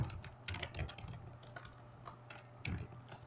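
Typing Python code on a computer keyboard: irregular light clicks and clacks come in small bursts, fairly near and at moderate level, with no talk over them.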